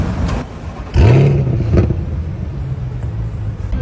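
A supercar engine gives a sharp, loud rev that rises and falls over about a second, then settles into a lower running rumble, heard close with no voices.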